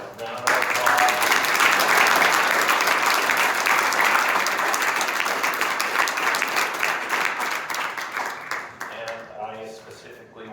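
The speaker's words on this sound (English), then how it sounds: "can we just give these candidates a round of applause?" A debate audience in Hooper City breaks into sustained applause for the candidates, a loud, dense wash of clapping from a sizable crowd that slowly tapers off, with faint voices near the end.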